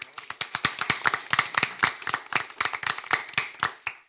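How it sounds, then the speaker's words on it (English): Crisp hand claps from a debate audience applauding the judges at a university debate competition, a fairly small crowd with distinct individual claps standing out, close and lively throughout. "Please give our judges a round of applause."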